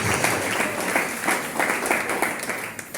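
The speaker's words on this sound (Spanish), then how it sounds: "Si es aplauso para el Señor, hágalo con toda su fuerza." A church congregation claps together in a lively, sustained burst of applause, a dense crowd of hands filling the room, loud and continuous with faint voices mixed beneath.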